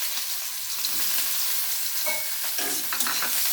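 Chopped onion softening in hot oil in a pan after chillies were fried, a steady broadband sizzle with a few brief spatula scrapes and stirs near the end, close and alone.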